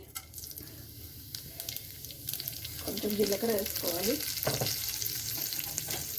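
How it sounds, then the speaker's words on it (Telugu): Cumin seeds sizzle in warm oil in a pan for an Indian chutney, a soft continuous frying hiss that swells midway with some bubbling, close by and fairly quiet. "అవి కొంచెం వెచ్చగా అయిన తర్వాత కొంచెం జీలకర్ర వేసుకోవాలి"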